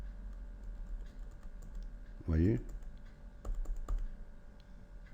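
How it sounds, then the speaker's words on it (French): Keys are pressed on a computer keyboard in quick, light clicks that come in short bursts, mostly after a brief spoken word, close and fairly quiet. "Et je vais jouer, bien sûr, de nouveau avec les touches de mon clavier."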